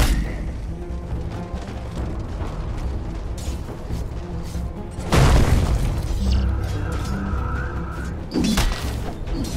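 A Dota 2 tower collapsing in a ranked match, a sudden loud crashing boom midway that breaks over steady game sounds and music, followed by a quieter second impact near the end.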